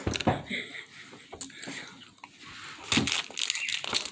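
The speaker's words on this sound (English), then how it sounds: "A lot of chewing." Close chewing of gummy candy gives wet, squishy crunching noises that come in irregular bursts, with faint voices and small laughs nearby.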